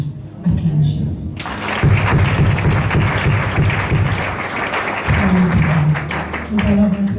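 Church congregation applauding during a service, a sustained wash of clapping that swells after a brief quiet start, with voices and low sounds mixed in beneath it.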